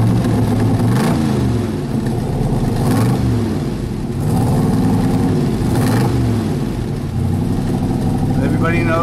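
A 1966 Trophy Blue car's 427 big block V8, rated at 425 hp, runs loud and close as it warms up, idling with a heavy lumpy rumble and rising in repeated revs.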